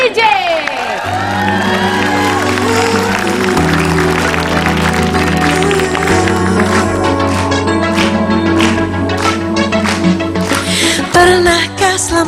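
A TV studio audience on an Indonesian talk show applauds and cheers, with whoops and shouts rising over loud sustained music that plays throughout.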